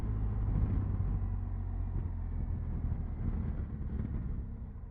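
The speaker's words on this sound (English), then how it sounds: "It's quite windy today." Steady low roaring wind buffeting a microphone while riding a motorcycle at about 70 km/h on a windy day, with a constant engine rumble underneath, continuous and fairly loud throughout.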